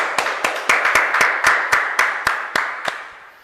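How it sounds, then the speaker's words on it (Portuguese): Church congregation clapping in unison for the Lord at the close of a worship service, about a dozen sharp, evenly spaced claps in a steady rhythm, fairly close and alone without talk. "Vamos dar uma salva de palmas para o Senhor."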